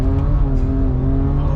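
A street car with a drag-tuned transmission accelerates hard in sports mode, its engine a loud, steady, close drone that climbs in pitch, with a brief exclamation from an occupant.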